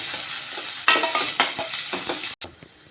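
Onions and curry leaves sauté in a pan, a soft steady sizzle broken by a few scraping stirs and light clatters of the spoon, close by with no speech.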